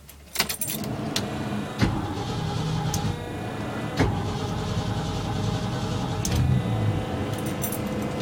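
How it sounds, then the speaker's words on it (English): A 1986 Ford F600 truck engine starts cold and settles into a loud, steady idle, with a few sharp metallic clicks and clatters over the running motor. "1986 Ford F600 cold start"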